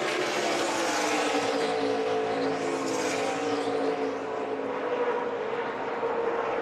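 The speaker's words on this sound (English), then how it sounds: "There's the 2 Thor Sport trucks racing along with Eric Jones" NASCAR Camping World Truck Series trucks race at Pocono, a dense, sustained roar of several engines at full speed, loud and continuous with shifting pitch as the pack sweeps past.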